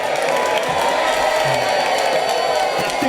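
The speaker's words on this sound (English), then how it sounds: "don't forget to applaud" A live podcast audience applauding and cheering, a loud, continuous roar of clapping with whoops and shouts throughout, some voices mixed in.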